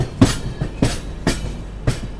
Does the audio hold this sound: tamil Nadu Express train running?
yes